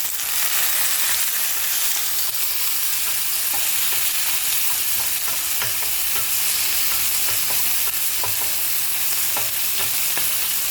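Green chillies, coriander and tomatoes fry over onions in a pan with a continuous dense sizzle and occasional soft stirring clicks, steady and close.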